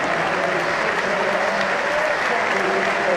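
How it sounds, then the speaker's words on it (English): A cricket crowd at The Oval applauds a batter's fifty during an England v India Test, steady, dense clapping filling the ground with a commentator's voice faintly underneath. "a lot of the crowd get to their feet to applaud"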